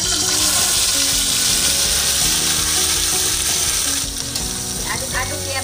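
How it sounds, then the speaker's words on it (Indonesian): Spice paste sizzles and crackles steadily in hot oil in a pan as it is sautéed for a spicy bitter gourd and fried anchovy dish, with occasional scraping and clicking from stirring, loud and continuous throughout. "Langsung kita tumis."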